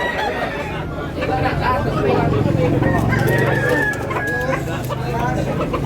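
Chickens and roosters at a poultry market in Tabunok, Cebu, clucking and crowing close by under a busy babble of voices, with people talking throughout.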